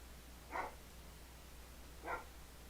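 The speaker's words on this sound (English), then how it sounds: "Sorry if you hear my dog." A dog barks twice in the background, spaced well apart, each bark short and faint over a steady low electrical hum.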